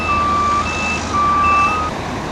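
Truck reversing into position at a construction site, its alternating two-tone reversing beeps repeating steadily and loud over a constant engine rumble.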